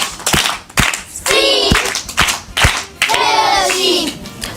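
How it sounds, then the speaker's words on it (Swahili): Children burst into applause in a classroom during a Bible question-and-answer session, two loud rounds of rapid clapping separated by short gaps and sharp isolated claps. "Mpigieni makofi."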